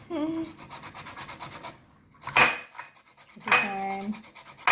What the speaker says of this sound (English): So you're going to grate at it in that.